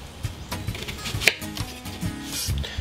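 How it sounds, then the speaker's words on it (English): A whole onion is chopped with a knife, heard as a series of close, fairly quick cuts on a board with one sharper knock partway through. "First thing I'm gonna do is chop up an onion."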